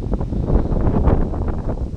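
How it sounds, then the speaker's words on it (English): Strong gusty wind from Storm Bronagh in the UK buffets the microphone as a steady, loud outdoor rumble with no voices. "a very windy day."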